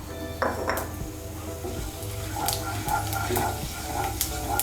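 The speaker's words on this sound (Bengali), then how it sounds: "এর মধ্যে আমি একটা তেজপাতা আর 1/2 ছোট চামচ গোটা জিরে ফোড়ন দিচ্ছি।" Bay leaf and whole cumin seeds hit hot oil for a Bengali doi chola tempering, giving a steady sizzle and fry under intermittent clinks and scrapes of a utensil against the pan.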